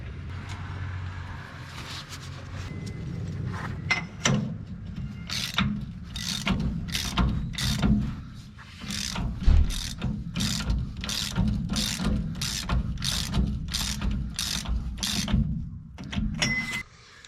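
A ratchet tightens the axle nut on a Dana 70 axle of a 12-valve Cummins truck. It gives quick bursts of loud, sharp clicking, a long regular run of strokes that ends in a few slower clicks.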